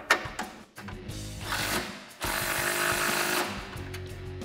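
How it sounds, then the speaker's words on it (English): A 13 mm wrench tightens fender flare brackets on a Jeep Wrangler JL, producing rapid close ratcheting clicks in short bursts separated by brief pauses, then a longer continuous run. "Switch over to your 13 and tighten down the brackets."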